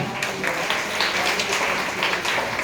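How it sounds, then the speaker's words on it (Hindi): An audience breaks into steady applause after a call to cheer for a guest, the clapping dense and continuous at a moderate level throughout with no voices rising above it. "सर के लिए जबरदस्त तालियां।"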